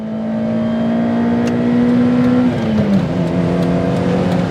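A 1990 Toyota Corolla FX-GT with the 4A-GE engine revs loud and close, its pitch rising steadily under throttle before dropping off as the revs fall, with no talking.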